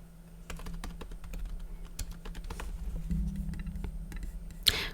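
Steady typing on a computer keyboard with caps lock on while entering text for a Cricut design project, clicky keystrokes in an uneven rhythm, close and moderately quiet, with a low steady hum underneath.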